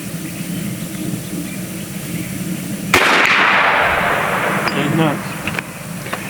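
One sharp, loud crack of a regulated BinTac M50 .457 big-bore airgun shot at an outdoor range, ringing and fading for a few seconds over steady background noise, with brief faint talk.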